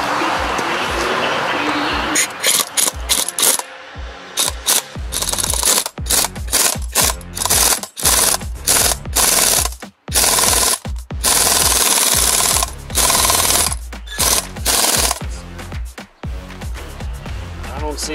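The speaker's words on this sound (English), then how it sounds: "He's got the impact gun there." Air impact gun working on a carrier bearing job, harsh buzzing rattling bursts starting and stopping repeatedly, loud and close in a shop.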